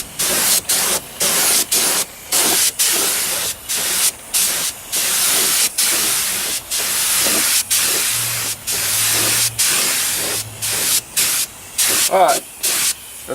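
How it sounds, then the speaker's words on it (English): Spray gun laying down a light coat of non-skid coating, loud hissing bursts repeated in short, regular passes with brief pauses between, close to the microphone. "Now right now I'm spraying, so let me put a little layer down"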